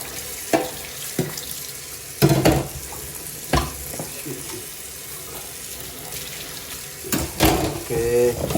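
Items being washed under a running kitchen tap in a UK home, water streaming steadily with intermittent clunks and clatters of handled objects, louder splashes near the end.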